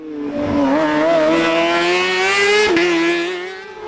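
A kart engine screams loudly and close at Pallas Karting Tynagh during an Irish Winter Series race, holding a high rising whine with a brief dip and recovery, steady and unbroken with no voices.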